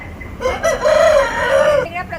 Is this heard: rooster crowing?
yes